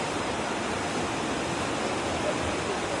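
The Aare river rushes through a gorge in Switzerland, a loud continuous broadband roar of flowing water heard from about fifteen feet above the current, steady with no distinct breaks.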